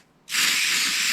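A hairspray aerosol can sprays in one sudden, continuous hiss that begins after a brief quiet moment and holds steady and loud until the end.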